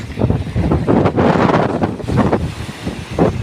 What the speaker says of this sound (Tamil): காற்று பயங்கரமாக நிற்கிது